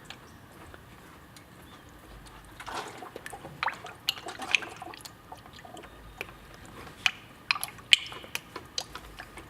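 Air bubbles gurgling out of the coolant in a newly installed aluminum radiator on a 2008 Nissan 350Z NISMO with a VQ35HR engine: faint, close bubbling and dripping with small pops, growing busier toward the end.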